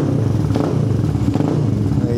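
A motorcycle engine runs steadily during a sound check after work at a shop, a dense, loud rumble throughout with slight rises, alone without talk.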